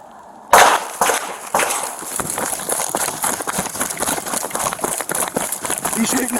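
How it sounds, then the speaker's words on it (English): Gunshots are fired at a police officer during an officer-involved shooting on North Paseo Del Norte, picked up by a body-worn camera. A sudden loud crack is followed by a jumble of sharp close impacts, rapid footfalls and clatter, with muffled voices underneath. "you will hear the gunshots fired towards the officer"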